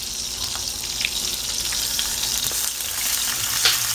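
Shrimp sizzling in hot olive oil in a wok, a steady bright crackle with small pops and occasional stirring, close and loud without any talking.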